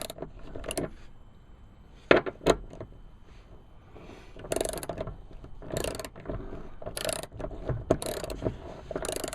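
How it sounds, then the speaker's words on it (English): 18mm socket on a ratchet working loose the seat belt bolt in a 2013 Jeep Wrangler Rubicon, bursts of quick metallic clicking separated by quiet pauses, close by, no speech. "just going to use an 18mm socket and a ratchet to get it removed"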